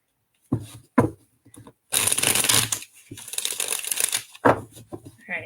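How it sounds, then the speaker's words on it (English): A deck of tarot cards shuffled up close in several quick riffling bursts, crisp flapping and riffles separated by short pauses, the longest burst running about two seconds, with no speech over them. "Let me get shuffled up here really quick."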